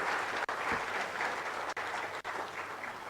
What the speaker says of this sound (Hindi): एक बार तालियां अनुगुंजित होती रहनी चाहिए आप सब की तरफ से।